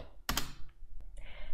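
Computer keyboard typing while entering a pipenv shell command: a quick cluster of loud keystrokes near the start, a single tap about a second in, then a softer clicking stretch, all close and with no talking.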